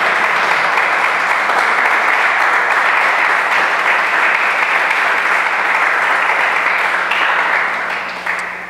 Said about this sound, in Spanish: alabe al Señor con sus palmas